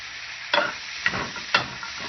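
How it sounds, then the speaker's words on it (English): Broccoli sizzles quietly in a hot pan with garlic, with three or four brief scraping stirs breaking through the steady frying hiss. "it's starting to sizzle because the water content is hitting the pan"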